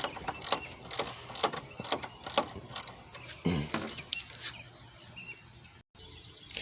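A 10mm socket ratchet clicks in quick, uneven bursts while screws are backed out on an alternator job on a 2006 Kia Spectra, close and fairly quiet, with a few birds chirping in the background.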